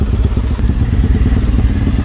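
Motorcycle engine revving hard during a group ride, the exhaust throbbing with rapid low pops and crackles, loud and close amid wind.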